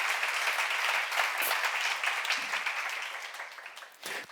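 Applause from a church seminar audience, a steady wash of clapping that gradually thins and fades over a few seconds, heard alone without talk.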